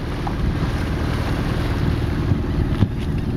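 Sailboat motoring up Mobile Bay on a calm morning, a steady low engine drone with water rushing past the hull and wind buffeting the microphone, continuous and close.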